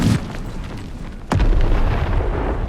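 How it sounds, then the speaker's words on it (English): Cannons firing on a town in the game Empire, a booming blast at the start and another sharp heavy report midway, followed by rumbling battle noise. "I will order every cannon to target these poor natives stuck here in the town."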